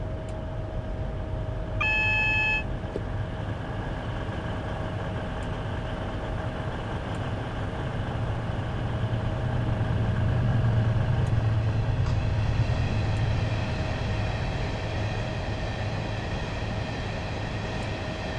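A Class 390 Pendolino electric train coasts into Stafford station in Train Simulator 2016, with a steady low rumble and continuous cab hum, a brief bright beep-like tone early on and a slight swell in rumbling midway.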